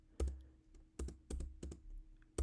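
Clicks of the enter key pressed repeatedly on a computer keyboard, about six sharp, close taps at irregular intervals in a quiet room.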